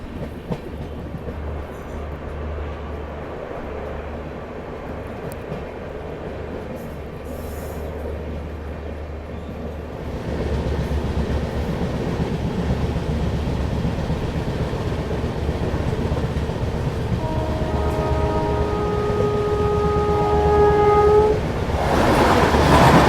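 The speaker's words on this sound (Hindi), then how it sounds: "गाड़ी हमारी तेज एक्सेलरेट करेगी" The Bhopal Shatabdi Express picks up speed on the main line, a rising rumble of wheels and carriages growing louder and steadier, with high squealing tones near the end and no talk.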